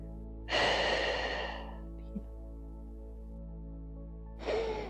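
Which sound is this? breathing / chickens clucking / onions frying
breathing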